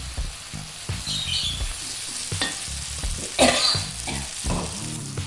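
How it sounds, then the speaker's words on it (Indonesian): Spice paste and palm sugar sautéed in a pan for spicy kikil curry, with steady close sizzling and repeated scraping stirs of a spatula throughout, and a brief louder burst of frying midway. "Kita tumis sampai harum."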